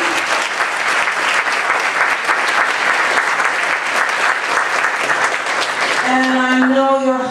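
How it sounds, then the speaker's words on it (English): Forum audience applauding, a loud, dense wash of clapping that holds steady, then gives way near the end to a voice speaking as the applause fades. "We have a round of applause for the entire first forum."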